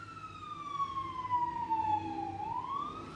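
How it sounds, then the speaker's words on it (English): A single fire department siren wails in the distance, its pitch sweeping slowly down and then rising again, faint but clear against quiet background. "Sorry if y'all hear those sirens."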